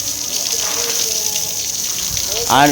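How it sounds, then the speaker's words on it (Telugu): Water stored overnight in a household tank pours out in a strong, continuous gushing stream, close and loud, with a voice briefly starting up near the end. "మనం రాత్రి మన ట్యాంకులో వాటర్ స్టోరేజ్ చేశాను అవి కొడుతున్నాను అనమాట"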